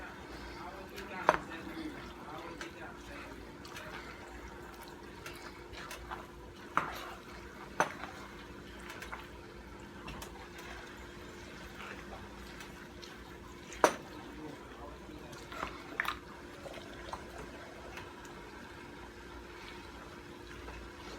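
A wooden or metal spoon stirs chicken and rice with mixed vegetables in a pot, giving soft scraping with a few sharp clinks against the pot rim over a low kitchen background.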